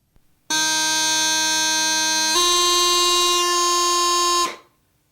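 Bagpipe chanter holding a bright, buzzing E that shifts cleanly down to D about halfway, both notes loud and steady with no pause, then stopping abruptly.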